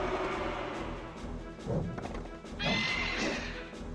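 A horse monster in the video game Monster Rancher neighs in two rising whinnies over busy game music and effects, fairly close and moderately loud.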